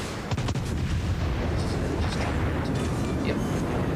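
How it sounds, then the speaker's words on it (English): Rapid secondary guns on a warship firing in a naval video game: dense continuous booming and cracking gunfire with sharp reports early on, loud and steady throughout with a low rumble beneath. "My secondaries are opening up,"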